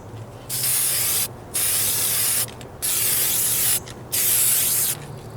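A spray gun lays down a tack coat of red paint on a Ford Ranger's patched driver-side floor pan, handheld, in four steady bursts of loud hissing spray with short pauses between them, no talking.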